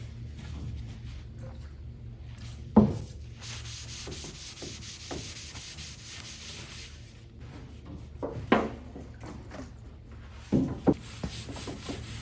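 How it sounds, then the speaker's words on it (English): A rag wipes wax and grease remover and lacquer thinner across epoxy-primed panels on a 1964 Ford Galaxie, giving soft, continuous rubbing strokes with a few sharper scrapes and bumps, close by and without talk. "I'm gonna put some wax and grease remover and some lacquer thinner on that. I'm just gonna put it on and wipe it off like I'm cleaning"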